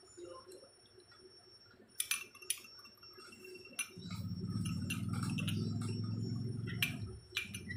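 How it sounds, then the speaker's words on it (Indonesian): A metal spoon stirs coffee in a glass, giving light, irregular clinks and taps against the glass in short clusters, heard close and fairly quiet over a low background rumble, with no talking. "Selanjutnya kita aduk kopi."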